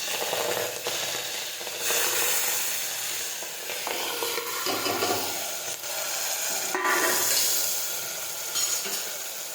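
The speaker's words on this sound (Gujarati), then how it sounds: "હવે આપણું તેલ છે તે ગરમ થઈ ગયું છે હવે આપણે તેમાં રાઈ અને જીરું નાખી દઈશું" Mustard seeds and cumin hit hot oil for a Gujarati cholinu shak, a steady, crackling sizzle with sharp pops and spatters, close and fairly loud, and a few brief clinks of a spoon against the pan.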